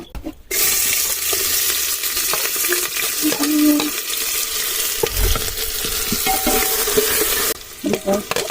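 Chicken fries in a pan with onion, ginger and tomato, giving a loud, steady sizzle with stirring scrapes that runs almost throughout and fades briefly near the end.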